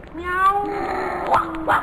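A cat meows in an animated cartoon aboard a ship, giving a couple of drawn-out, wavering cries with a sharper call near the end, loud and close.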